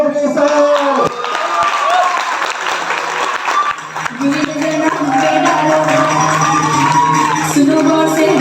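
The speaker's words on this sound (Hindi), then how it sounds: "प्लीज उनका स्वागत हल्ला, म्यूजिक, सीटी, तालियों के साथ करें" Crowd welcoming a guest, Mr. Jayram Chaudhary, with steady loud applause and cheering while music with sustained tones plays throughout, the clapping dense and continuous for the whole stretch.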